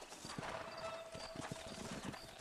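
Horse hooves clip-clop in a steady trotting rhythm while riding in the video game Red Dead Redemption, layered over a constant bed of game ambience.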